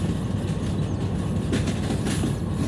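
A train rolls along rails in the Derail Valley video game, a continuous low rumble with rattling clatter from the wagons, close and steady throughout.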